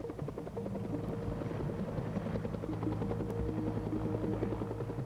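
Helicopters fight a wildfire in Yellowstone with a loud, continuous rhythmic rotor chop that stays close and steady throughout, with no voices.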